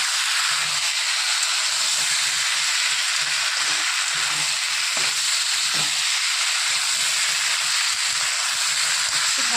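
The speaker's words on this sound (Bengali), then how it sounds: "ভালো করে কষিয়ে নেব যাতে আদা রসুনের গন্ধটা চলে যায়।" Ginger and garlic sautéing for parshe fish chochchori, a steady loud sizzle and hiss of hot oil with soft, irregular stirring scrapes underneath, close and continuous.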